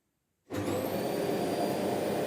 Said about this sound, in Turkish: Şimdi de korkanlar süpürgenin sesine.